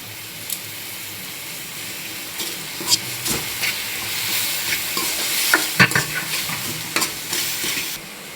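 Tomatoes and onions sautéing in a pan, a constant close sizzle broken by repeated scraping stir strokes and spatula knocks at irregular intervals, with no talking.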